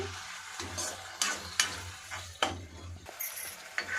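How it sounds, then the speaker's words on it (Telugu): Tomato pieces frying in a pan, a soft continuous sizzle over a low hum, punctuated by several distinct knocks and scrapes from stirring at irregular intervals. "టమాటా ముక్కల్ని వేయాలి వేసి దీన్ని కూడా మనం వేగేంత వరకు వేగించుకోవాలి"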